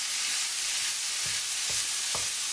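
Beef mince dry-frying in a pan gives a constant hiss and sizzle, with three dull scrapes of a utensil breaking up the meat, spaced about half a second apart.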